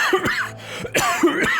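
A voice imitates a character's cough during a fantasy tabletop role-playing session, giving a few short rough bursts with brief laughter-like breaths between them, close and fairly loud.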